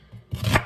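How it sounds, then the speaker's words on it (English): A kitchen knife chops a vegetable on a cutting board during beet salad prep, giving one soft tap followed by a sharper, louder slicing chop, close and alone. "I'm just going to chop it like that"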